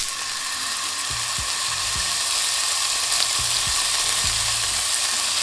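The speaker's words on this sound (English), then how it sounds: "when the pan is nice and hot, you're gonna add your steak in," Steak searing in a hot oiled pan, giving a steady, bright sizzle throughout with a few soft low knocks and scrapes underneath.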